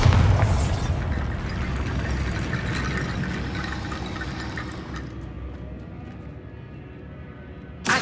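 A Bombarda blasting spell goes off in Hogwarts Legacy: a loud booming burst at the start, then a rushing, crumbling roar that fades away, with a short sharp hit at the very end.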